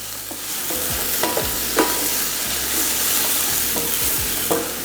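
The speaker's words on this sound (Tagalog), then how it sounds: "Ginigisa ko lang to hanggang sa mag-umpisa ng mag-brown yung bawang" Garlic and onion sauté in a pan for pancit, a steady close sizzle broken by several scraping stirs of a spatula, with no voices.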